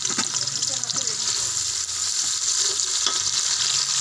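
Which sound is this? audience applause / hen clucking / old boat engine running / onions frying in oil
onions frying in oil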